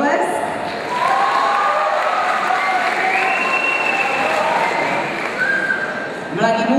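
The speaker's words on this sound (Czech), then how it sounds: "potlesk" An audience at a Czech ball claps for a second-place prize winner, giving steady, full applause that lasts several seconds with crowd murmur underneath, ending with a few louder claps.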